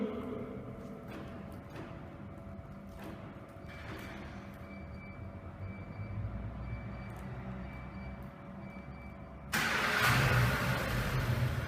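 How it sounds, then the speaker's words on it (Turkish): A car engine is started by a remote start system using the vehicle's original key fob, with a steady idle hum building before a sudden louder burst near the end. "Aracımı çalıştırıyorum."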